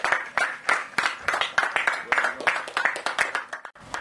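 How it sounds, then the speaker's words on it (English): Clapping at an outdoor ground-breaking ceremony for a hybrid renewable energy project, a short spell of loud, close, uneven claps from a small group mixed with crowd murmur. "Let's give him a round of applause."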